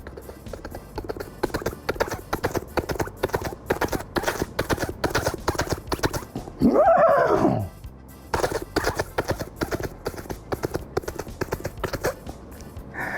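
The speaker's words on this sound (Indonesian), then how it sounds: "Kita dengar derap-derap langkah kudanya ya." Horse hoofbeats clip-clopping in a steady rhythm, loud and near, with a brief horse whinny partway through, alone without talk.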